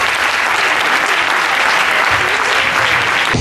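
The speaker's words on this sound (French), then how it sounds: "On peut l'applaudir, merci." Loud, dense audience applause at a French hypnosis and stand-up comedy show, a steady wall of clapping that fills the whole stretch without a pause.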